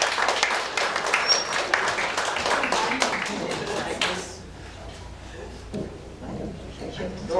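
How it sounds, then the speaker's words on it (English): A live audience at a jamboree show applauds a comedy double act, dense hand clapping that carries on for about four seconds and then fades into quieter room noise with scattered claps. "Nice round of applause for Bob and Jim"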